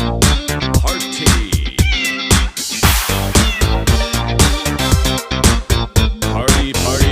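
Rapid, loud meowing from a kitty cat dance party, dense bursts of cat cries and caterwauls packed over a pulsing beat, close and continuous.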